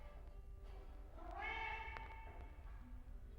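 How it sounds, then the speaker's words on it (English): A single drawn-out cat meow rises and falls near the middle, fairly faint and indoors over a low steady hum, with no talking. "You can hear my cat."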